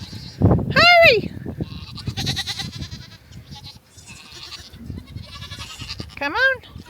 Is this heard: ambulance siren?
no